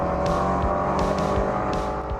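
A 300-horsepower BMW 335i sedan with a paddle-shift automatic lapping the VIR racetrack, its engine a steady, loud drone throughout with brief tire noise and shift blips, no talk.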